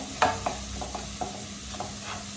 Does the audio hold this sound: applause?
no